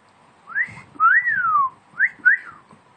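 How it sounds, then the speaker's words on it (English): A parrot gives a few clear rising and falling whistles in short bursts, close and fairly loud in a quiet room. "Fluff up. Give me a whistle."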